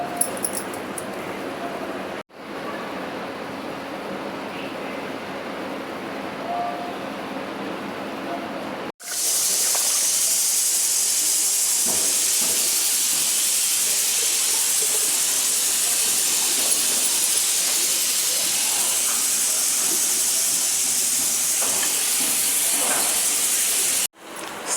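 A pressure cooker on a gas stove lets off steam, first a quieter rumbling stretch and then a sudden, loud, continuous hiss that holds steady for about fifteen seconds before cutting off abruptly.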